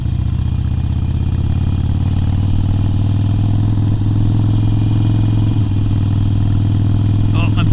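A Harley-Davidson Iron 883 motorcycle runs hot at a steady low rumble, its engine holding a continuous even throb close to the microphone with no clear revving throughout.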